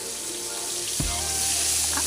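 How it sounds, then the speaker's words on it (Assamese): Paneer pieces fry in a couple of spoonfuls of oil, giving a steady, close, bright sizzling hiss with a soft clunk partway through. "তাৰপিছত পনীৰবিলাক ভাজি ল'ম।"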